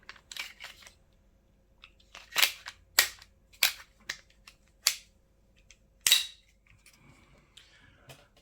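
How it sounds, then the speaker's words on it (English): A Stark Arms slide is fitted onto a SIG P320-style airsoft pistol frame, making about six sharp, close metallic clicks and clacks at uneven intervals, with faint handling rustle between them and no talk. "The SIG frame with the Stark arm slide. We can slide that on."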